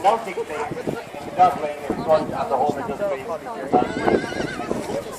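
A big horse at a show whinnies loudly in several bursts, with hoof clip-clops nearby, while people talk over and between the calls.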